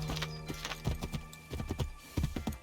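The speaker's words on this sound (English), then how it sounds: "The horses will go much faster." Horse galloping in Assassin's Creed 3, a quick run of clip-clop hoofbeats in uneven clusters of two and three, fairly close and clear with no talk over them.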